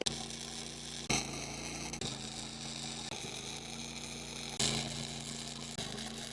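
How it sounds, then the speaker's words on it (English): Generator-powered welding of washers onto a torsion axle for a Cobalt boat trailer, heard as a steady buzzing hum with a few sharp bursts and crackles where the arc restarts, close and continuous without talk. "Let's weld them."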